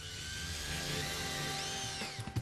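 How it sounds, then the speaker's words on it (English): A cordless drill whines steadily at high speed, its pitch shifting slightly as it drives a concrete screw, then winds down with a few clunks at the end. "Next, insert the concrete screws using a cordless drill."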